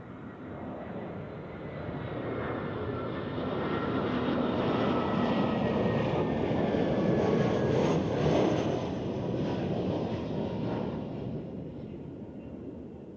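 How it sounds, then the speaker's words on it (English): A Brussels Airlines airliner landing at Zurich Airport in crosswinds, a steady broadband engine roar that swells to its loudest mid-pass and then slowly fades, heard from a distance on its own. "Brussels Airlines is next, and if once I have figured out my stuff here, I can pan over and show you this landing"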